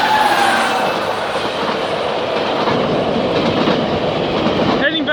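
GO Transit commuter train 674, bound for Union Station with an old cab car, rolls past close and loud, wheels clattering steadily before the sound cuts off with a brief squeal.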